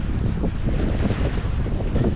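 A sailboat motoring out of the Bight past sea caves, with steady wind buffeting the microphone over the rush of water and engine, continuous and loud with no voices.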